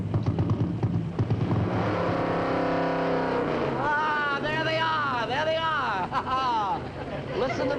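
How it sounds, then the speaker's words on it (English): An engine roars loudly and steadily, then its pitch swoops up and down in several revs, with voices talking over it. "Listen to that engine."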